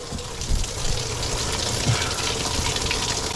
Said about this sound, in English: We can hear the fluids draining out.